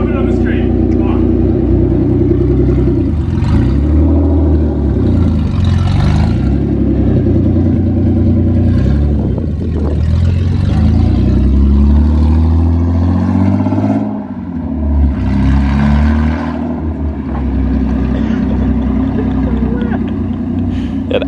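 A V6-swapped Toyota MR2 engine runs loud and close, rising and falling through repeated revs with a deep, throaty note and sweeping pitch changes, while people talk over it.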